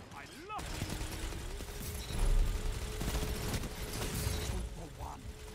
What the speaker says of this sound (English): You hear sweet business?